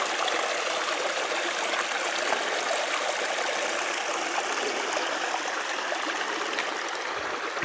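A creek spilling over rocks like a small waterfall near an off-grid cabin, giving a steady, close, broadband rush of flowing water with no talk.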